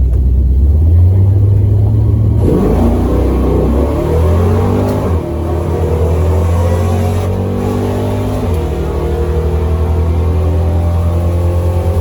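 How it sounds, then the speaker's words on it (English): At Hot Rod Drag Week, a drag race car's engine idles with a low rumble, then roars and revs up hard through rising gears. The sound is loud and close, with no talk. "As Barisa goes 1098 in the left-hand lane, and the Dart 1237 at 109."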